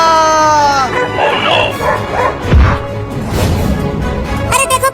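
A cartoon dog yips and whimpers in short, excited bursts amid busy animated sound effects and overlapping character voices.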